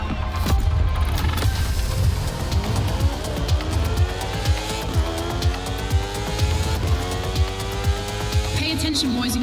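A race car roars through a time attack in The Crew Motorfest, its engine droning loud and continuous with rising and falling revs and faint tire noise, with no speech over it.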